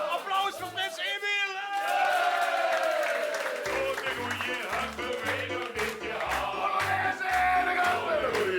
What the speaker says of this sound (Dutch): Applaus voor prins Emil!